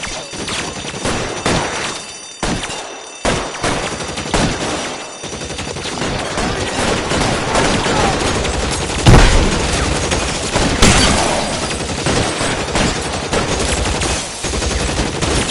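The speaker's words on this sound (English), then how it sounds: "I'll lay down some suppression fire." Dense gunfire fills a shootout in the L.A. Noire video game, with rapid overlapping shots and bursts of automatic fire, sustained and loud with a few heavier blasts.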